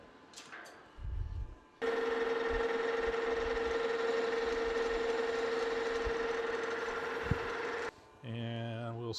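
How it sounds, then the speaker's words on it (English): A Monarch 10EE lathe runs steadily in reverse, a loud even motor whine with a strong constant tone holding for about six seconds before cutting off, with brief handling noises before and after. "Reverse the lathe."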